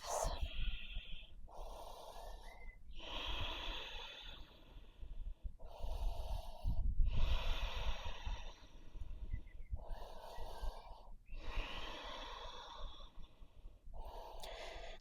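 Slow, deep breaths are drawn in and pushed out while holding a yoga forward fold. Close and audible, about seven rhythmic inhale and exhale cycles follow one another at an unhurried pace.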